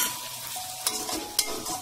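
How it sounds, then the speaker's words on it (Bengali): Spice masala fries in a pan while being stirred, giving a steady sizzling hiss with a few sharper scraping clicks from the spoon. The sound is close and moderately loud, with no talking. "মশলাটা একটু ভাজা ভাজা হোক ভালো করে।"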